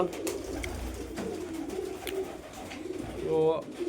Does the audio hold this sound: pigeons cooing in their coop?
yes